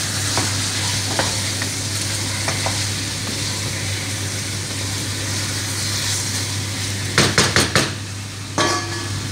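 Chicken pieces sizzle in a pan while being stirred and mixed, with a steady fry hiss and a low hum, then a quick cluster of sharp utensil clanks against the pan near the end.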